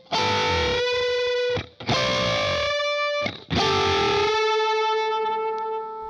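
Distorted electric guitar plays the second half of a solo: three sustained, singing bent-note phrases with short breaks, the last note ringing out, loud and close.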